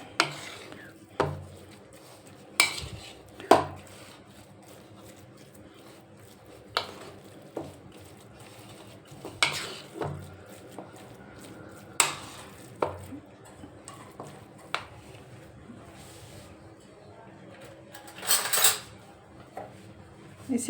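Homemade khoya being mixed with sweet potato in a pan, with a series of irregular, sharp utensil scrapes and knocks against the pan, spaced apart and close by, with no talking.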